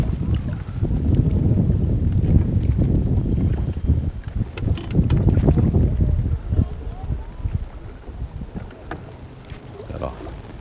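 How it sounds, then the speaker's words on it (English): Steady wind buffets a small boat, with low rumbling gusts, water lapping and occasional knocks against the hull. "The wind is trying to twist the boat around here."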